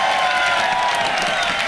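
A crowd at a freestyle rap battle event cheers and applauds a DJ, a brief, dense wash of clapping and shouting held steady for under two seconds.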